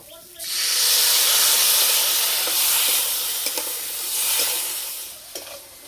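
Boiled chickpeas and their cooking water poured into hot spice masala frying in oil, giving a loud, steady hiss and sizzle that swells and eases over several seconds with a few faint stirring clinks.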